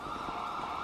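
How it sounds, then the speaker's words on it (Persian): An ambulance siren from a GTA role-play game plays as a sustained, fairly faint electronic wail, heard alone in a brief burst. "ای بای پرهام با آمبولانس رو بردن"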